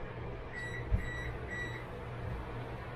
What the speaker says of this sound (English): that beeping that you just heard is I've preheated my oven at 350